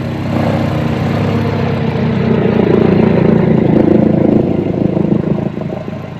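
A 2021 Yamaha MT-09 SP with a full Akrapovic exhaust idles close up with a steady, throbbing rumble, holding an even level throughout with no voices.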